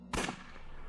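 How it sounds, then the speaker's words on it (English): A single sharp gunshot rings out in the point-and-click adventure game Unavowed: a sudden loud crack with a short, fading tail, and no other sound around it. "Was that a gunshot?"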